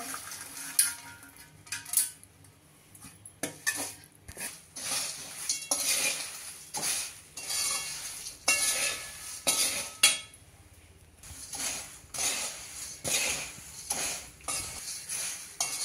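Roasted rice flakes chiwda, mixed with fried ingredients, is stirred in a pan over the gas. A metal spoon scrapes and clinks against the pan in irregular, close strokes, with a faint sizzle between them and no talking.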